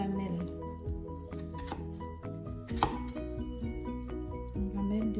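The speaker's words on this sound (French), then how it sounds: "Nous allons découper les pommes en lamelles" Knife slicing apples into thin slices on a board for an apple tart, a series of close, crisp cuts and taps at an irregular pace, with soft music or background tones underneath.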